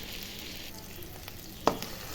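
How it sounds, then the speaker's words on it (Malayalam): A spice mixture for crab curry sautés in hot oil with a soft, steady sizzle, broken by a single sharp clink of a utensil against the pan, quiet and close with no talking. "ഇത് നന്നായി ഒന്ന് വഴറ്റിയെടുക്കാം."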